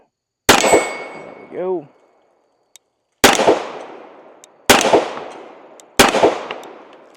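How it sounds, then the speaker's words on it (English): A Springfield Armory Emissary 1911 pistol fires four sharp, loud shots outdoors, spaced irregularly with ringing decay, and a clanging ding after the first; someone speaks briefly. "Let's go ahead and fire our last rounds we've got in her today and see how she does."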